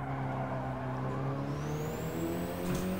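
Race car engine in the Gran Turismo 7 video game, a steady sustained drone with a rising whine toward the end, loud and alone throughout.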